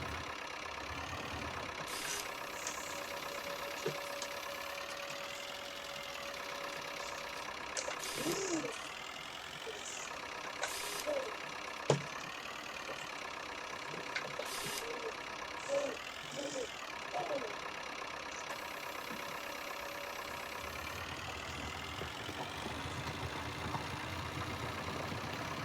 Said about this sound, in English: So you can see our new tractor working